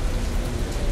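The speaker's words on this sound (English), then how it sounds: "Rain! Artyom! When was the last time you saw rain?" Steady, dense rain pouring down in the video game Metro Last Light, a loud continuous hiss of falling drops with no gaps.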